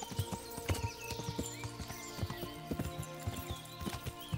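Horse hooves clip-clop in the medieval video game Kingdom Come Deliverance, a steady, close galloping rhythm of many hoof strikes with a whinny mixed in amid game sounds.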